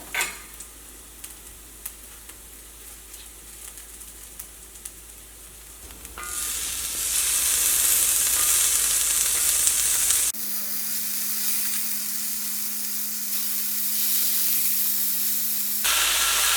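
Tomatoes drop into a curry pan and fry with a steady sizzling hiss that swells louder partway through, with occasional stirring scrapes; no voices.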